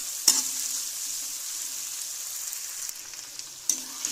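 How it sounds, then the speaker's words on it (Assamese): Ginger, garlic and onion with spices fry in a hot wok, a steady broad sizzle throughout with a couple of sharp clinks of a spoon against the pan. "আদা নহৰু আৰু পিঁয়াজখিনি অকণমান আৰু আধা মিনিটমান লাগিব আৰু অকণমান কেঁচা গোন্ধটো যোৱালৈকে ভাজি লওঁ"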